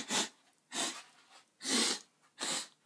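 Someone with a cold sniffs hard through the nose four times in an uneven rhythm, each sniff close to the microphone and alone, with quiet pauses in between.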